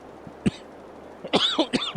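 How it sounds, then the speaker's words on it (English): A person coughs alone in a quiet room: one short cough near the half-second mark, then a harsher burst of two or three coughs close to the end, each loud and close. "my cough comes back at the last second there"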